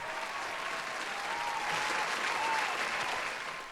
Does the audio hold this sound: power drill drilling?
no